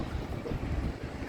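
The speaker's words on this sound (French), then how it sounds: "Non mais regarde, il y a du vent et tout." Wind blowing outdoors near Shimonoseki, Japan, a steady low rumble of gusts buffeting the microphone, fairly loud and continuous with no talking.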